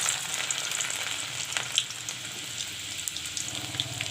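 Chopped garlic sizzles steadily in hot mustard oil, a close, continuous frying crackle with small pops throughout and no talking.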